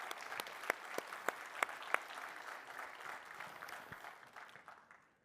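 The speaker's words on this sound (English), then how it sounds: "if we can give a round of applause for the people that did that" An audience at a Kubernetes community tech conference in Denmark applauds in a steady round of clapping that is moderately near, with a few sharp louder claps early on, then tapers off and fades toward the end.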